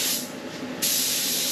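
Clear coat sprayed onto a rear bar bumper and brackets inside an enclosed spray booth: a steady, loud hiss of the spray gun that swells brighter and stronger partway through, continuing without a break.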